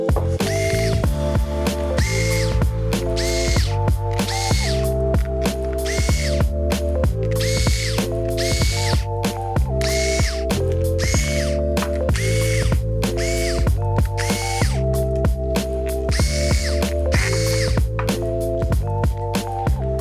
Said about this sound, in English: flip the unit over and remove the screws from the bottom cover.